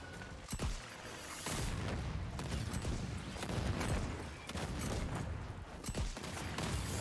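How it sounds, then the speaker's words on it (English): Rocket fire and explosions in the video game Second Extinction: repeated booming blasts and bursts of fire, moderately loud, over continuous rumbling combat noise with no talking. "Let's deal with them with rockets."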